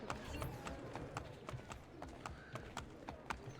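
Horse hooves clip-clop steadily in Assassin's Creed Brotherhood, a regular run of crisp knocks from a trotting horse at moderate distance, heard alone over a low ambient bed.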